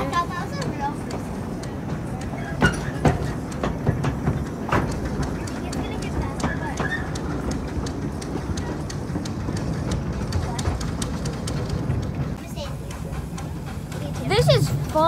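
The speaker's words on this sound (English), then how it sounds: "The train looks like it's about to start." A Chippewa Valley excursion train rumbles along the tracks with repeated clicking and clacking, a steady mechanical roar throughout, with passengers talking now and then.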